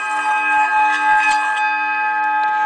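Small harmonic singing bowl, about 844 g for a set of three, tapped with the padded end of a stick: bright sustained ringing tones with a few light soft strikes layered on top, no voices.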